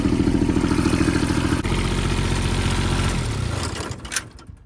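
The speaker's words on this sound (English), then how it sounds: "Kubota 3-cylinder D600 ride and drive with some biodiesel in it" A Kubota D600 three-cylinder diesel runs steadily on homemade biodiesel, a loud, even low chugging with clattering harmonics that slows and fades near the end as the engine winds down.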